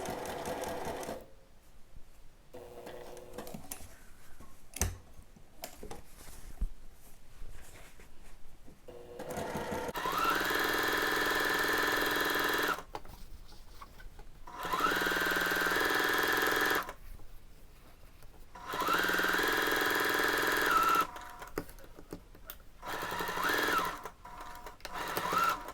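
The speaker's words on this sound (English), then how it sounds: "I'm going to sew together the sleeve ruffle main and lining." A sewing machine stitches a sleeve ruffle to its lining with a half-inch seam, running in several close bursts of a few seconds each, a fast buzzing whir separated by quiet pauses and small handling clicks.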